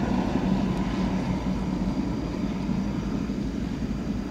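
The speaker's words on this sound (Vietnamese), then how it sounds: "mình khá chắc rằng đây là một chiếc Bombardier Global 6000" A Bombardier Global 6000 business jet on the ground at an airport, its auxiliary power unit and engines giving a steady, loud, unbroken roar with a faint whine and no voices.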